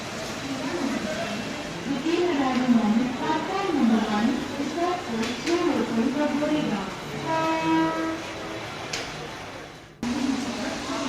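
A Mumbai suburban local train on a flooded, slowed line rumbles past with a steady rolling clatter, close and loud, while a voice talks over it throughout.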